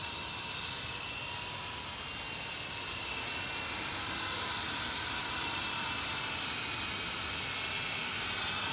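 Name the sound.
SYMA Chinook remote control toy helicopter flying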